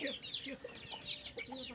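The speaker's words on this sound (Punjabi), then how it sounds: "ਉਹ ਜਿਹੜੀ ਪਰੇ ਮੁਰਗੀ ਫਿਰਦੀ ਆ" An Aseel hen clucks repeatedly nearby on a farm in short, uneven bursts, with other fowl sounds mixed in.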